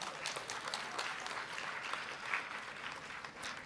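Audience applause at a Malaysian official launch ceremony for the 2016 1Malaysia reading camp, greeting the Menteri Besar of Negeri Sembilan. Steady, dense clapping from a sizable crowd holds evenly throughout without voices.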